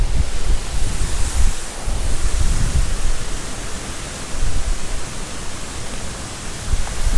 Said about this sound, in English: there's a river that comes down through there